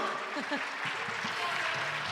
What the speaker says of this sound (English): It's all right, you can clap.